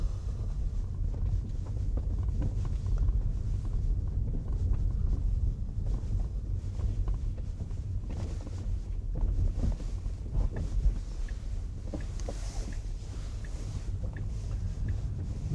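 A Tesla Model 3 driving and accelerating on a quiet road: a steady low rumble of tyres and road noise with wind buffeting, continuous and fairly loud, with no voices over it.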